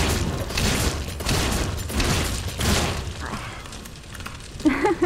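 Gunfire from a Resident Evil video game as a player shoots at police officers, heard as several loud rapid bursts in a row that fade at the end.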